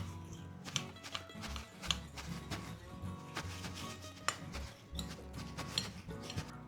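Crushed biscuit being mixed with melted butter, heard as irregular scraping clinks and taps of a utensil against a bowl, moderately close and fairly faint.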